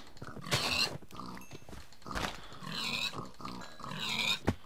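Pigs in the Minecraft video game give several short oinking grunts in separate bursts, fairly loud and close, with no talk over them.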